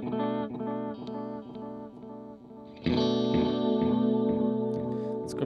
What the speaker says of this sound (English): Strymon has a lot more options for the tape, for tailoring the delay sound.